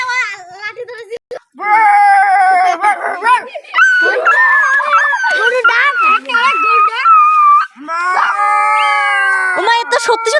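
A voice imitates a dog, giving repeated barks and long, wavering howls and whines, loud and close, with short pauses between the calls.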